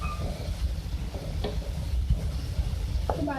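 A spoon stirs a spiced chicken mixture with soya sauce and green chili in a pan, giving soft scraping and clinking strokes over a low, steady sizzle, heard up close with no voices.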